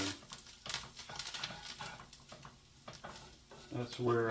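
Flour being stirred into browning sausage and drippings in a pan, with a soft sizzle under repeated scraping strokes of a utensil against the pan, and a voice talking over it.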